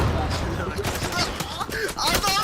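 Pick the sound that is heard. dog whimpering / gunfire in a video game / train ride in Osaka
gunfire in a video game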